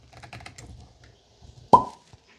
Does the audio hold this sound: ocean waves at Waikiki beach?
no